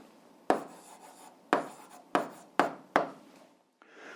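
A pen writes down the answer to an algebra exercise in five short, crisp scratching strokes, close and fairly quiet, with brief pauses between them.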